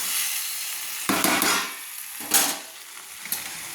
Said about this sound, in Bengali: দেখুন দেখুন নেড়ে নিচ্ছি এইভাবে